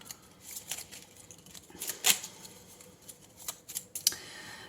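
Tarot cards are drawn and handled from a deck, with a series of sharp, close papery snaps and slides arriving in irregular bursts and little else around them.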